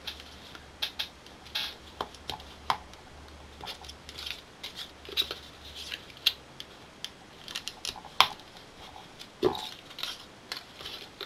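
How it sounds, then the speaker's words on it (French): Scissors cut through folded paper for a Christmas mug treat holder craft, giving close, scattered snips and rustles at an irregular pace, fairly quiet with no talk. "On va faire l'utilisation de nos ciseaux."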